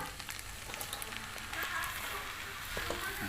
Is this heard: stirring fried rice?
yes